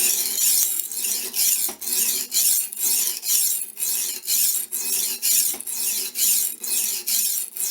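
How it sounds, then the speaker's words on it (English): A Russian kitchen knife is drawn back and forth across a wet sharpening stone coated with paste, producing about a dozen steady rasping strokes in a close, even rhythm with no talk. "it's this paste which actually sharpens the blade as opposed to the stone itself"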